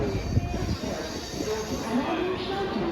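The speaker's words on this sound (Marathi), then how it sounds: "आपली ट्रेन आलेली आहे" A passenger train pulls in at Borivali station platform before a Ganpati festival journey, its rolling wheels and low rumble steady and close throughout, with a faint squeal and people talking around it.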